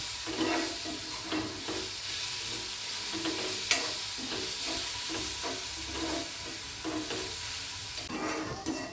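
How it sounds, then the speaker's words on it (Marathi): Onion frying until reddish in a pan for a bharangi vegetable dish, a close continuous sizzle with rhythmic scraping strokes of a spoon stirring every second or so, no talking. "कांदा थोडा लालसर होईपर्यंत थोडा भाजून घेतो."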